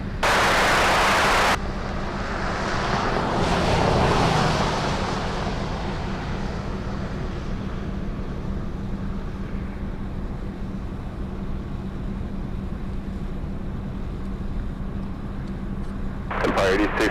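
A jet airliner rumbles steadily at Anchorage's Ted Stevens International Airport, a broad distant roar that holds for the whole stretch, with a brief sharp burst of noise at the start and a crackle near the end.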